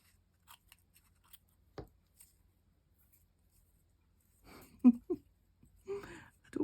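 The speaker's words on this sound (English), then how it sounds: "want to cut all the hairy bits off, but I want to see my straws." Scissors snipping the frayed ends off paper drinking straws during a flip-folio craft, a few sharp isolated clicks followed by quick closer cuts, with soft handling noise in a quiet room.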